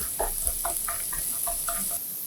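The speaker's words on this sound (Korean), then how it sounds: "중약불에 팬 올려 올리브유 2스푼 두르고 달궈지면 다진 마늘 넣고 골고루 저어" Minced garlic stir-fried in two spoons of hot olive oil in a pan over medium-low heat: a steady close sizzle carries underneath while a utensil scrapes and taps the pan in quick, irregular strokes, with no talk.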